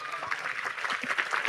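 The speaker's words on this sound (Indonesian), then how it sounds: "tepuk tangan" A university audience applauds during an address to the rector, deans and students, a soft, steady patter of clapping with faint voices underneath.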